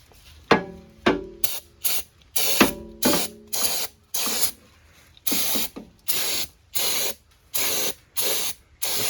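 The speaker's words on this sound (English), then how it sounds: "Parts cleaner I'll just use to clean up some of this junk around here." Aerosol parts cleaner sprayed over the engine of a 1980 John Deere Spitfire 340 during a top end rebuild, about a dozen short, loud hissing bursts in an uneven rhythm, close up and alone.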